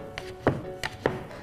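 Knife chopping buckwheat soba noodle dough on a board, four crisp close cuts in a loping, trot-like rhythm within about a second and a half.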